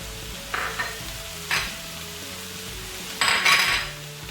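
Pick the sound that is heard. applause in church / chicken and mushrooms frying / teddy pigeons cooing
chicken and mushrooms frying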